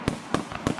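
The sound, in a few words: fireworks exploding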